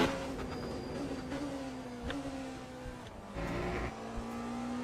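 A race car engine in a WEC endurance racing video game drones steadily through its gears, with a BMW running close behind. The pitch slides gradually and there are brief shifts and clicks along the way.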